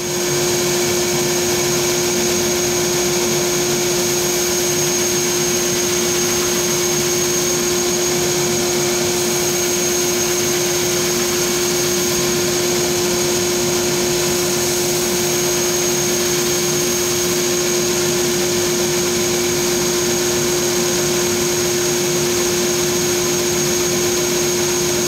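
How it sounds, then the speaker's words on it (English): A belt sander rounds over the edge of a wooden back scratcher, a loud, constant motor whine with steady abrasive hiss running unbroken throughout, no speech. "I decided on the belt sander for that as opposed to the disc sander"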